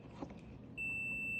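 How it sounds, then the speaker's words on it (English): A multimeter continuity beep while testing the starter lockout switch on a Mercedes W126 560SEL: a steady, clear electronic tone that starts abruptly partway through and holds, after faint shuffling. "This is the meter which should beep."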